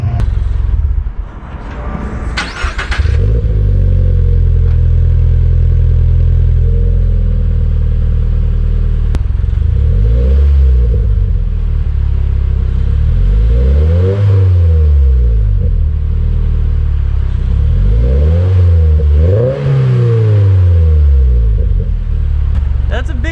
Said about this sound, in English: Just a basic catback exhaust.